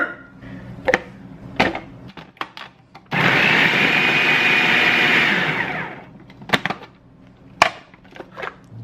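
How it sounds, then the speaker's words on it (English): A food processor whirs loudly and steadily for about three seconds, starting and stopping abruptly. Scattered clicks and kitchen clatter come before and after it. "Into the food processor. This goes."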